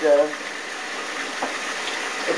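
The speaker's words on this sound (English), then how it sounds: "let the cold water run over the eggs" Cold tap water runs steadily over eggs in a sink, a constant splashing hiss with no pauses.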